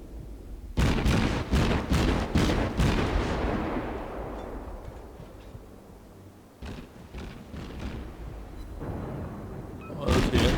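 Ship guns fire in the World of Warships naval game as a rapid salvo of loud booming shots, with each long rumble fading over several seconds before another short burst of gunfire.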